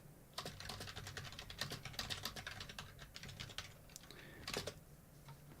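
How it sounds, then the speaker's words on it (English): Rapid, steady typing on a computer keyboard, close up, with dense irregular key clicks and a few louder strokes near the end, with no speech. "We just type in a little message here for the channel topic."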